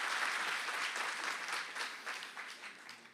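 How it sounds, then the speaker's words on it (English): A crowd at a community rally to save Maimonides hospital applauds its staff, a dense wash of clapping that is fairly distant and soft, slowly thinning toward the end. "I would like everybody to give a round of applause for the staff."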